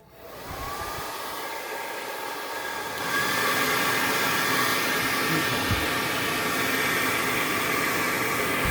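A new handheld blow-dryer runs continuously and close, a loud steady whooshing roar that steps up to a higher setting partway through, with no talk.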